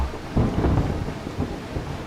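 Rolling thunder sound effect with rain, a deep rumble that swells and fades over a couple of seconds, fairly loud and without voices.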